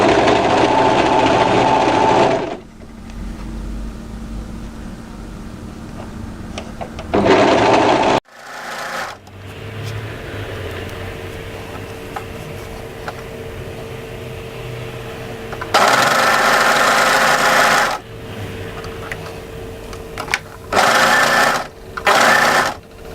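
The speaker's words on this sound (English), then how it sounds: "Just make sure you overlock over it nice and smoothly." An overlocker runs along the sleeve seam of a panel sweatshirt, its loud steady whirring coming in several long bursts with quieter pauses and fabric handling between them.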